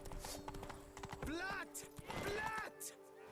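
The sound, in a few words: horse hooves, from a video game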